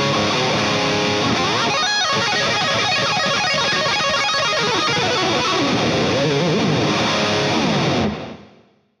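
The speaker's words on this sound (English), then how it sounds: "And now let's hear it with the overdrive on." Electric guitar played through a Rocktron Reaction Supercharger overdrive pedal, a dense, driven riff that rings steadily for about eight seconds and then cuts off, no voices.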